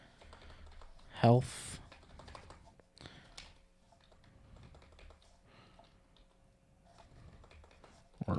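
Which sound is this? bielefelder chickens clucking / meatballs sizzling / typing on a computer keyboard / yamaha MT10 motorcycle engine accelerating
typing on a computer keyboard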